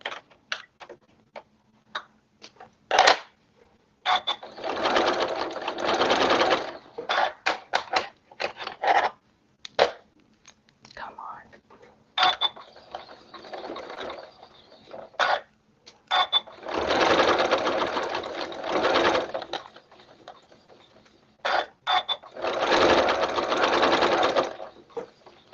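A sewing machine stitches slowly in several separate runs, its needle chattering steadily for a few seconds each time, with quiet gaps and scattered clicks between runs, close by.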